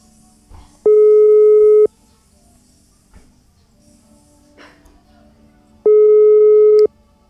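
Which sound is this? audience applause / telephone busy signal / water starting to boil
telephone busy signal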